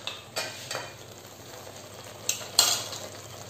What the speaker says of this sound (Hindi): मैं भून रही हूँ, अब इसमें मैं एक एक करके मसाले डालूंगी।